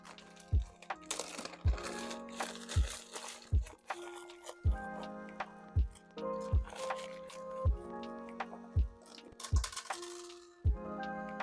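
Double-bagged crystal inventory gets handled in plastic bags, giving soft crinkles and squishes with repeated sharp clinks and taps of crystals knocking together at an uneven, unhurried pace, close and quiet.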